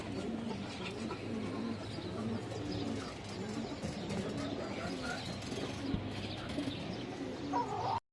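A large female pigeon coos in low, soft repeated calls, steady through the stretch amid a busy ambient background at moderate level.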